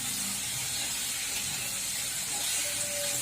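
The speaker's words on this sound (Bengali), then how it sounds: "এইভাবে যতগুলো কড়াইতে ধরবে আমি ততগুলো পকোড়া একবারে ভেজে নেব।" Dhaba-style chicken pakoras fry in hot oil in a wok over low heat, giving a close, continuous hissing sizzle that stays steady and loud with no talking.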